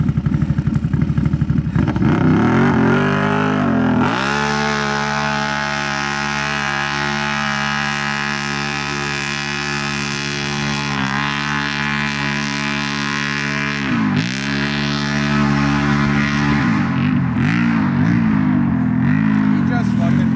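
A Can-Am Renegade XMR 1000R ATV with a 1085cc big bore kit roars loud and close, holding a steady high rev with brief dips before climbing again, while voices talk over it.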